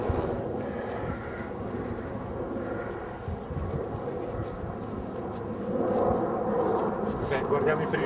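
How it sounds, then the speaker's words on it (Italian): A helicopter flies near the Punta Indren cable car at Alagna Valsesia on Monte Rosa, its broad, rushing drone holding steady and then swelling louder toward the end, mixed with wind buffeting and faint voices. "Elicottero."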